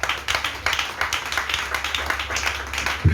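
A church congregation clapping together in praise, a dense, fairly loud patter of many hands in a steady quick rhythm, with scattered voices faintly beneath.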